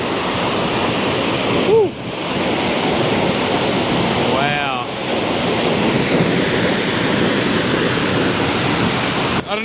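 Powerful waterfall roaring and spraying across a viewing platform, a steady dense close rush of water, with a couple of brief excited exclamations.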